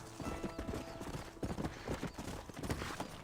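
Horse hooves clip-clop steadily at a brisk pace in the Red Dead Redemption game, loud and close, with a faint neigh mixed in.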